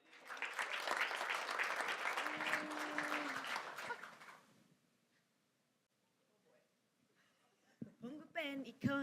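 Audience applause at a golf roundtable event, a full burst of clapping for about four seconds that dies away into near silence, followed by a few faint voices.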